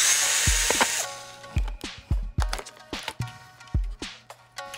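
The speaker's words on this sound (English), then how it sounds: "Let's get my little trusty screwdriver and get this bad boy out." A small screwdriver works on the die-cast metal base of a 1:32 scale Batmobile toy car, giving a string of close, sharp metallic scrapes and knocks in irregular bursts after a brief opening hiss.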